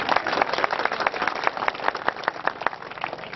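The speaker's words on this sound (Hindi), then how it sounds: "जोरदार तालियों से स्वागत करें।" An audience at a public welcome event during a visit by the Law Minister in Barwani claps for arriving guests, a continuous patter of many hands at moderate distance, lively and unbroken throughout.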